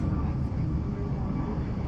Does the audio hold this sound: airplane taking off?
yes